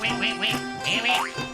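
Ducklings in a children's cartoon quack repeatedly in quick, overlapping nasal calls, loud and close, with no talk over them.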